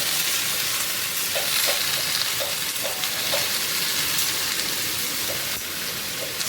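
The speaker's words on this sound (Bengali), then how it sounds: "করলা একটু ভাজা হলে না একদম একটুখানি হয়ে যাবে চলো ভাজি দুটো হতে থাক" Bitter gourd frying in a pan gives a continuous loud sizzle and crackle, dense and even, with small repeated pops from the oil and no voices over it.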